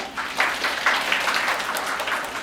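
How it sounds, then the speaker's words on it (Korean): Audience applause for a mentor at a youth camp concert, a crowd clapping steadily in rippling bursts, moderately close and fairly soft. "다시 한번 좋은 말씀 해주신 서윤 멘토님께 박수 한번 주세요."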